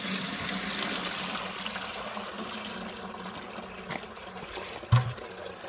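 A bucket of water poured into a toilet holding flushable wet wipes makes a steady rushing, splashing wash that fades slightly, with a sharp knock near the end.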